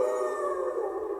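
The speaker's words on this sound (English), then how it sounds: "Werewolves howling all around us." Werewolves howling as a Halloween sound effect, a sustained, layered tonal wail holding steady and loud across the brief stretch, sounding like several howls blended together.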